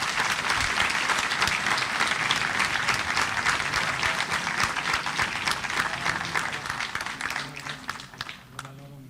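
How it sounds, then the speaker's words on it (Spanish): An audience at a conference in Querétaro breaks into loud, sustained applause, a dense wash of many hands clapping that carries on for several seconds before thinning toward the end. "Démosle por favor un fuerte aplauso."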